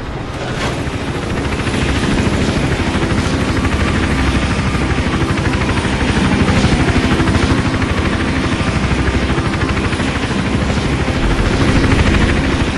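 A steady, loud, close rotor chop from a helicopter in the Hitman Absolution video game continues without a break for the whole stretch, with no voices over it.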